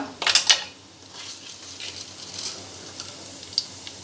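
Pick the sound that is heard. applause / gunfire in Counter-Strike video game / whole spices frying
whole spices frying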